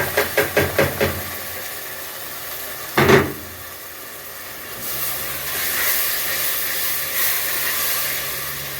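Tomato paste going into fried golden onions for stuffed cabbage: a quick run of tapping knocks, a sharp clatter, then a soft hiss that swells into a sustained sizzle.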